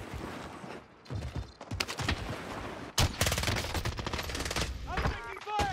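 Gunfire in Warzone on Rebirth Island: rapid automatic bursts and sharp shots with mechanical clatter, loud and close, with several volleys through the middle and later part.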